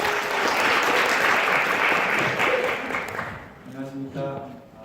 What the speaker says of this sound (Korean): 큰 박수로 환영 부탁드립니다.